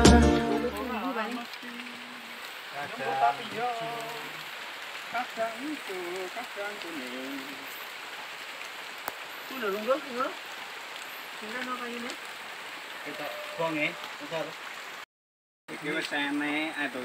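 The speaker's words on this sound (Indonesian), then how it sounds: "Gampar hujan." Rain falls at Telaga Wagebang as a steady soft patter and hiss that goes on throughout, with voices talking over it off and on.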